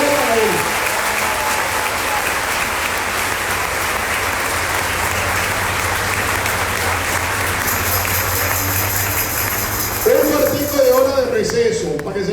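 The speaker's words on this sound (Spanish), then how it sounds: "Un aplauso para el Señor" Congregation applauding during a Catholic retreat, a long dense roar of clapping with a low hum underneath, fading near the end as a voice begins speaking over it.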